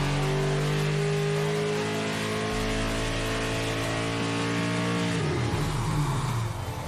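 A built V8 with a giant turbo revs hard on a dyno, a loud sustained engine pull climbing steadily in pitch for several seconds before the tone shifts as it winds down.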